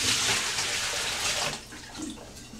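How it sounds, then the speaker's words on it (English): Water sloshes and splashes as coffee pots are lifted out of a soaking bath, a close burst of pouring and dripping that fades after a second or so. "Let's pull these out of the water."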